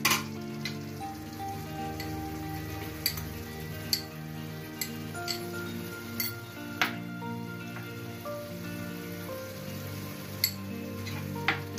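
Tomato spaghetti sauce with oregano and salt frying and being mixed in a pan, a soft steady sizzle broken by sharp ticks and clinks of a spoon stirring, fairly quiet and close with no talking.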